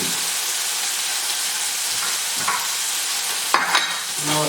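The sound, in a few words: Salisbury steak cooking in a pan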